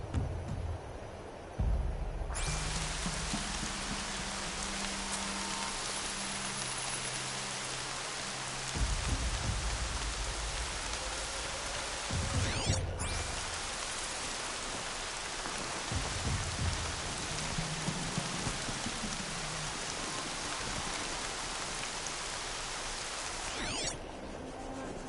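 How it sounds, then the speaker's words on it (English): Steady, dense rain falls in a PS4 video game, a continuous hiss with low rumbles and occasional footstep-like thuds. It holds throughout, with no speech. "More rain. My boots will get damp."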